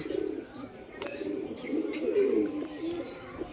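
Heavy, handsome domestic pigeon cooing in a low, soft rolling murmur, close by and continuous, with a few faint chirps from other birds.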